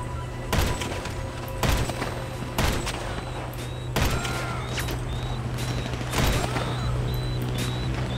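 Gunshots ring out in GTA 5 Online, about six loud single cracks spaced a second or so apart over a steady low hum and faint whistling tones, with no talk.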